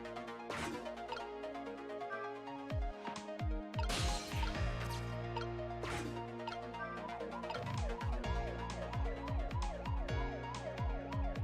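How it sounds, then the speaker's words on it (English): Siren wailing in a game soundtrack for a phantom detective story, rising and falling tones layered over dense music with percussive hits, steady and loud throughout. "what the fuck's going on with the siren, right?"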